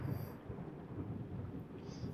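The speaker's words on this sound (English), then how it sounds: "There's lightning outside." Rumbling thunder from a storm in the horror video game Layers of Fear, a steady low roll with rain-like hiss, moderately quiet and continuous, no talking.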